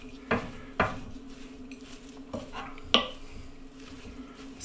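Spoon stirring a thick savoury carrot and seed flapjack mixture in a pan, with intermittent scraping knocks against the pan at uneven intervals, close and moderately quiet, without talking.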